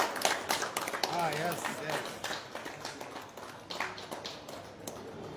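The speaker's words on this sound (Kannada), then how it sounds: "ಇನ್ನೂ ಜೋರಾಗಿ ಚಪ್ಪಾಳೆ ತಟ್ಟಿ ದಯವಿಟ್ಟು." Scattered hand clapping from an audience at a public event in Hubballi, uneven and moderately loud, with voices mixed in.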